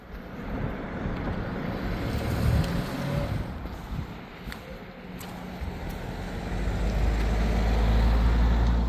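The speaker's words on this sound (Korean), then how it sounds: "때이른 모터보트와 수상스키를 즐기는 분들이 계시네요." Motorboat towing water skiers on a river, heard from the bank as a distant engine drone under strong wind buffeting that swells toward the end.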